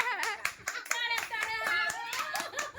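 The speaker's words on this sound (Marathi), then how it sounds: "टाळ्या वाजवा" Hands clapping in a few quick bursts at home, close by, mixed with a voice and other talking.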